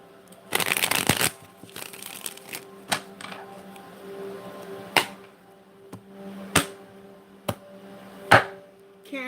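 A deck of tarot cards is shuffled in a fast riffle burst near the start, followed by several sharp, separate taps and flicks as the cards are squared and handled up close, with no talking.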